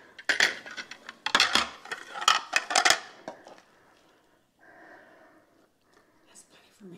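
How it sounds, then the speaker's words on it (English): Food being dished up from a Dutch oven: a few close scrapes and clinks of a serving utensil against the cast-iron pot and plates, in short bursts during the first three seconds, then quieter with faint talk. "We're ready for lunch, and we'll go ahead and dish it up"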